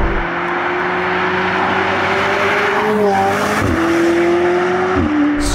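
A McLaren 765LT Spider fitted with a Novitec exhaust accelerates hard, its engine note droning loud and close, climbing in pitch and dropping briefly at each upshift.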